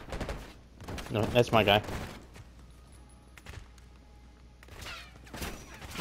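Gunfire during a firefight in Call of Duty Black Ops 6, loud bursts of shots clustered early and again near the end, with brief spoken lines mixed in.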